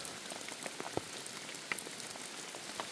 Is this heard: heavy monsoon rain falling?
yes